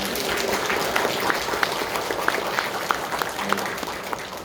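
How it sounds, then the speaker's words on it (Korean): Church congregation applauding to welcome visiting young guests during a Sunday morning service, a short burst of steady clapping from the assembled crowd filling the room. "한번 박수로 한번 환영해"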